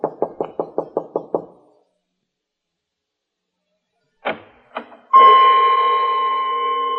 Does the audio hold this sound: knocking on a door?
yes